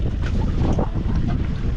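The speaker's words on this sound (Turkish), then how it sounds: "Teknemiz aktif şu an faal." A fishing boat out at sea with a crew of women fishers at work, wind buffeting hard and steadily over the low drone of the boat and water, with no talk.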